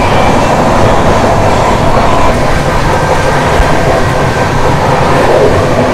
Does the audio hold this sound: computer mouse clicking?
no